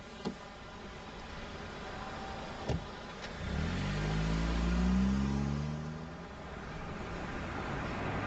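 A car's engine starting up and pulling away, rising to a moderate rumble with a few faint clicks before it, then easing off, heard at low volume without voices.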